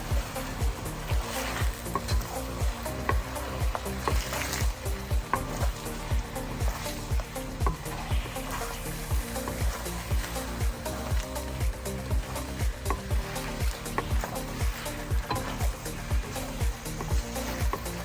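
A spoon stirs a thickened sauce with tofu and mushrooms in a pan, making rhythmic, repeated scraping and sloshing strokes that stay loud and close throughout, with a low background hum.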